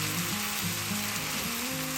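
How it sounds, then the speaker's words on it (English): Chicken chow mein noodles stir-fried with meat, vegetables and sauce sizzle steadily in a hot pan, with scraping stirs of the utensil at a regular pace. "Let the noodle mix well with the meat, veggie, and sauce."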